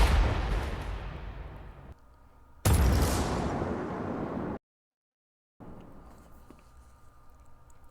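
Explosion effects from a free sound pack: two heavy booms, each a sharp loud blast decaying into a long rumbling tail, followed by silence and a fainter distant rumble.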